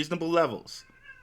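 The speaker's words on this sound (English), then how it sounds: "I'm watching my stepson's cat and it's so annoying. It's in heat right now" A cat in heat lets out one loud, drawn-out, wavering meow close by, then falls quiet with only faint background hum.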